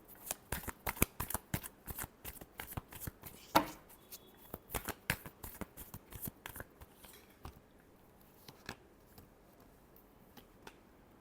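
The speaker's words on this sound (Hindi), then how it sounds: "Last shuffle." A deck of tarot cards shuffled by hand, a rapid run of crisp riffling flicks close up, slowing into sparser taps and card slaps toward the end.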